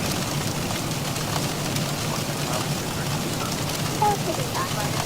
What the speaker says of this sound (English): Oh, the rain sounds?